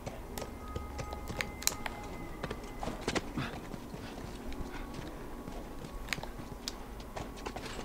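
Horse hooves clip-clop on a hard surface in The Last of Us video game, with quiet, irregular clattering steps that continue throughout against a soft background.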